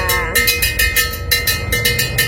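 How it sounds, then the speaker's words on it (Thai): Regular metallic clanging strikes of a bell rung to warn of an approaching train at a trackside cafe in Kanchanaburi, Thailand, about one every quarter second, ring out loudly and steadily over a low rumbling background. "พี่ๆเขาก็จะเคาะระฆังบอกสัญญาณ ให้ลูกค้ารู้นะคะว่าจะมีรถไฟมา"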